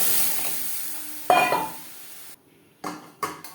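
Boiled lentils poured into sizzling tempered spices with panch phoron, dried chilli, raw mango and turmeric for a sour dal: a soft hiss, then a loud burst of sizzle, a short silence, and two brief stirring scrapes.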